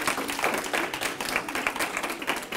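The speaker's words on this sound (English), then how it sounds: "So let's give Mike a round of applause" An audience at a poetry reading claps in a steady, moderately loud round of applause, dense and continuous throughout with no voices over it.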